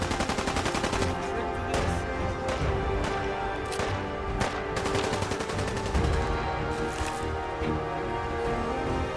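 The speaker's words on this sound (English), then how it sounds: "You use the silent shotgun." Suppressed shotgun fire in Fallout 4 comes as a steady run of loud, overlapping shots and impacts lasting the whole stretch, with no talking.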